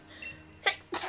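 Two quick sneezes in close succession, sharp bursts after a soft breath, close to the microphone in an otherwise quiet room.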